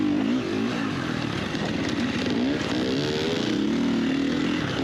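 A dirt bike engine revs and buzzes continuously during an AMA hare scramble race at Muskegon, loud and close with a rising and falling pitch throughout.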